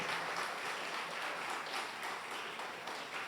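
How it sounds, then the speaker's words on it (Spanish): Church congregation applauding at a family worship meeting, a steady, fairly faint wash of clapping that carries evenly throughout without voices standing out. "Le damos un aplauso al Señor."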